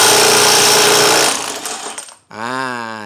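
A Bosch GDS 18V-400 cordless impact wrench runs on a bolt, first a loud, close, dense hammering that tails off, then after a brief gap a rapid, buzzing impact rattle as the bolt is loosened.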